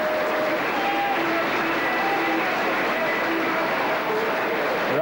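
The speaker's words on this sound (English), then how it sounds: "Rousing cheer from obviously going to be a partisan crowd here" Crowd cheering as the Auckland rugby league touring team, in blue shirts with a white V, takes the field at St Helens in 1987; a steady, dense roar of a partisan crowd holds throughout with faint whistle-like tones.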